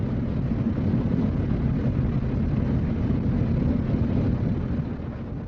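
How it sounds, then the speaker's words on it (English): A captured Mi-24 Hind assault helicopter produces a steady, dense rotor and turbine roar, fairly close and unbroken, fading slightly at the end, with no voices. "An Mi-24 assault helicopter captured from Iraqi troops in the Gulf War."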